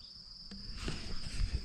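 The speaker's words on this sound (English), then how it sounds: "the bees are coming and going, which is very exciting" Honeybees buzzing around newly arrived active hives on a hot day, a steady insect hum in the open air that thickens and grows a little louder partway through, with no voices.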